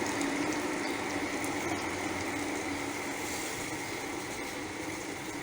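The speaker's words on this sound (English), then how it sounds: "So now we put water, hot water, boiling water inside the carrots." Hot boiling water pouring into a pot of carrots for a traditional Czech carrot sauce, a steady close rushing and splashing that runs unbroken and fairly loud, with no talking.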